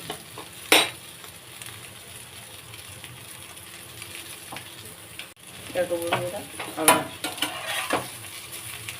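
Eggs and eggplant slices frying in hot oil give a steady sizzle with scattered spatula scrapes and clinks, some louder knocks near the start and late on, while a voice talks briefly over the cooking.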